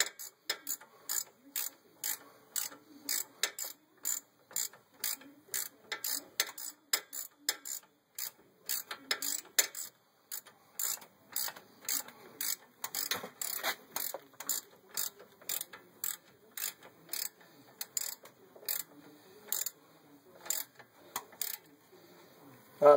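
Ratchet wrench tightening bolts on the brakes of a Chevrolet K3500 pickup, a long run of quick, regular metallic clicks in bursts with brief pauses, close and fairly loud, no talking.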